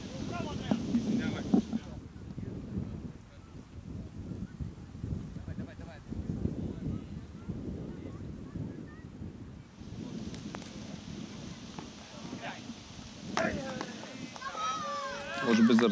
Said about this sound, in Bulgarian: Вятъра се усилва.